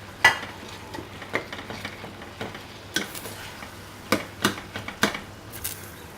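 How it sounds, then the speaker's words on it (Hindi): Mashed peeled eggplant stirred into fried tomatoes in a pan for baingan bhurta, giving scattered spatula scrapes and taps over a faint low sizzle, close and moderately quiet. "अब इसको अच्छी तरह मिक्स कर लेंगे।"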